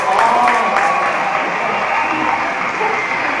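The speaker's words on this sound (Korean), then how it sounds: "우리 효자 시인을 위해서 박수 한번 드릴까요?" A concert audience applauds a young poet at a Korean literature event, with loud, dense clapping and a few cheers up close, tapering slightly toward the end.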